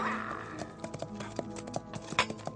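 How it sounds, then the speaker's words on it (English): A horse's hooves pound in a quick, uneven series of sharp thuds, each beat distinct over a low, steady background and holding roughly level in loudness throughout. "he listened to the rapidly receding pound of a horse's hoofs"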